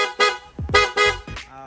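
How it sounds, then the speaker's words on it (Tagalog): Loud aftermarket horn on a Honda Click v2 scooter honking in several short, separate blasts, with brief gaps between them, close by. "Ito naman yung loud horn."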